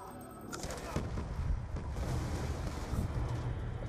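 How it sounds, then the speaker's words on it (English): Burst-fire gunshots from a weapon in a Wii U shooter, dense rapid volleys of booming reports running continuously over the whole stretch with no pause. "That's burst fire."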